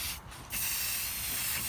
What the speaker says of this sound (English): this is me spraying on the silver paint afterwards